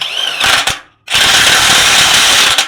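A DongCheng DPB22C electric impact wrench tightening a nut gives a loud, close, rattling hammer burst. It stops briefly, then starts again and hammers on steadily.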